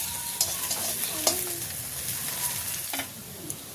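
Crispy bora fritters frying in hot mustard oil in a village kitchen, a soft steady sizzle broken by a few sharp scraping clicks of a spatula stirring and lifting them out.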